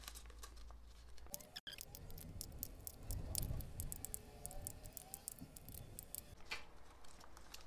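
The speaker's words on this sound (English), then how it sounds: "now I need to poke some holes in, and I'm just going to use my scissors to do that." Scissor points crunch and click repeatedly through the bottoms of thin plastic cups, a series of sharp, close snips and pops with faint background noise.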